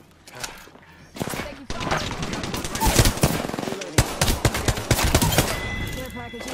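Rapid automatic gunfire rattles through an Apex Legends match in dense, repeated bursts, with players talking over the shooting.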